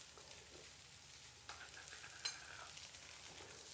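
Yakisoba noodles stir-fried over super high heat, a constant close sizzle with a few sharper scrapes and clatters of stirring, no voices.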